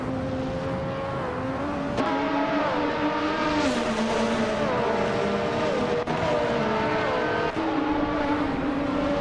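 F1 1988 race cars in a racing video game, several high-pitched engines whining and shifting up and down as they race closely together, loud and continuous with no speech.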